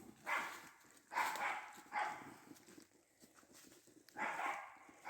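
Dogs barking in a forest while people hunt for mushrooms, several bursts of barking recurring at intervals of about a second, moderately close, with softer rustling in between.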